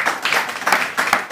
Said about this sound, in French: On peut l'applaudir ici.